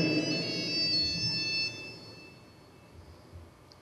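A mobile phone ringtone goes off during a ceremony for a news site's new design, a bright, steady electronic melody that plays for about a second and a half, then cuts off, leaving a quiet room with faint shuffling.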